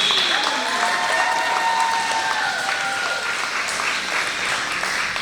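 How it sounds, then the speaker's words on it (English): Audience at a school ceremony gives a loud, sustained round of applause, dense clapping with a few whoops and scattered voices in the crowd. "And so let's give a huge round of applause for Mrs. King."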